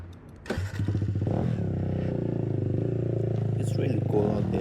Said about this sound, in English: this bike is a mini bike and it's from the Kawasaki